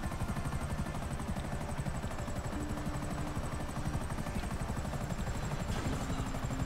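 A helicopter in GTA 5 gives a steady, loud rotor chop and engine drone with rapid regular blade pulses, continuous throughout with no talk.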